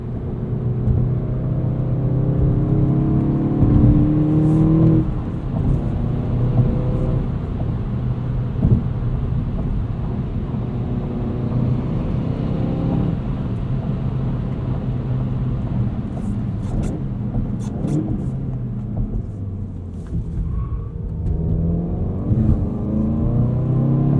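Engine of a 2016 Volkswagen GTI SE with a six-speed manual gearbox, heard from inside the cabin as a loud, steady drone that climbs in pitch through the gears with brief dips at shifts.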